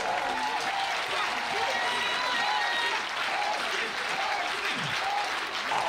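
A church congregation applauds in a sustained, dense wash of clapping that stays steady and fairly loud throughout, with voices cheering within it.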